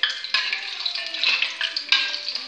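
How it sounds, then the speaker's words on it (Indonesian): Sliced shallots fry in hot oil in a pan while being stirred, a continuous close sizzle broken by scraping strokes of the utensil against the pan, with no talking. "Kita mau masak bawang merahnya, kita goreng."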